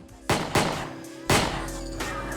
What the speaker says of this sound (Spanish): oyeron lo que parecían disparos a las 10 de la noche